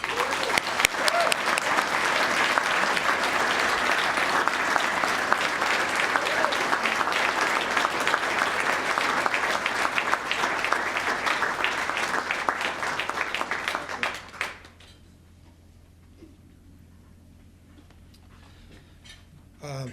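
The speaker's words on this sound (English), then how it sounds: "Please recognize Dr. Stapleton with your applause." Sustained audience applause at a human rights awards breakfast honoring an award recipient, dense and steady for about fourteen seconds before stopping abruptly, leaving a quiet room.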